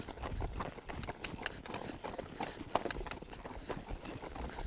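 A freshly shod horse walks during a ride in Idaho country, its hooves clip-clopping in an even, repeating rhythm at moderate volume, with no talk.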